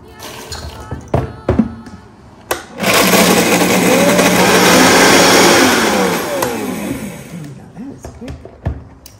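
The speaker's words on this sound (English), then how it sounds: "And we're using our Vitamix." A Vitamix blender whirs loudly for about four seconds while making Thanksgiving relleno stuffing, then winds down. Clattering and handling knocks come before and after it.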